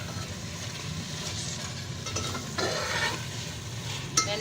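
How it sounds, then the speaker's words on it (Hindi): Potatoes, peas and radish pods being stirred into spices frying in a pan for a mixed vegetable sabzi, giving a steady soft sizzle with scraping stirs and a small clink near the end, no voices. "इनको डालने के बाद मैं मिक्स करूँगी इनको मसाले में"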